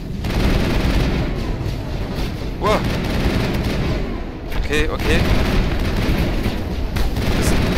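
Gunfire from the video game Mass Effect cracks in short bursts beneath a steady bed of game noise, with someone talking over the action.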